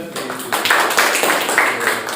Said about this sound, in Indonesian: Sudah, cukup tepuk tangan.